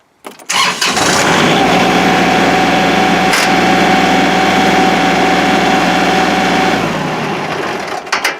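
A Kubota L3301 HST tractor engine cranks and starts, then runs loudly and steadily at close range for several seconds before shutting off abruptly.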